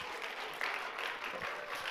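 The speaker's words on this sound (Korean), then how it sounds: "우리 한꺼번에 박수 축하받겠습니다" Applause from an audience at a school graduation ceremony, a steady wash of clapping that is fairly faint and distant, running throughout.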